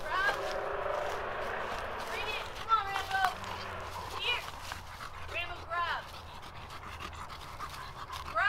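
An iguana hunting dog pants and lets out several high, quavering whimpers and whines in short bursts, close by, with voices in the background.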